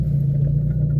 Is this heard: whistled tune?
no